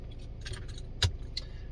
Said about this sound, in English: That's your spare key with the mail key.